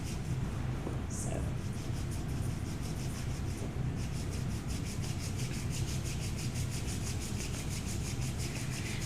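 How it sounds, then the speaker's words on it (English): Palms rubbed together vigorously during a kundalini yoga session, producing a steady, close, continuous swishing friction with rapid rhythmic strokes throughout, while a voice talks faintly underneath. "Start rubbing the palms of your hands together and rubbing the soles of your feet together."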